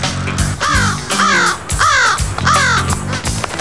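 Loud, harsh crow caws repeat four times at a steady pace, each a raspy call with short pauses between, close by and with no talking.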